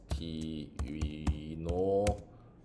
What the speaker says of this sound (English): just type in SSTuino